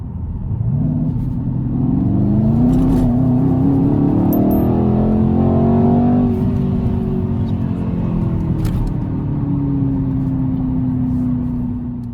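A 2020 Mercedes-AMG C63S Cabriolet accelerates at half throttle on a road, its loud V8 rumble rising steadily in pitch through the gears, heard up close for several seconds and then easing off.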